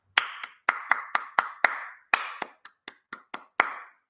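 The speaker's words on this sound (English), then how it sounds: "you could play Twinkle, Twinkle, Little Star simply by clapping out the rhythm" Hands clap out the rhythm of Twinkle, Twinkle, Little Star, twelve crisp, close claps in an uneven nursery-rhyme pattern with short pauses between the phrases, heard alone in a quiet room.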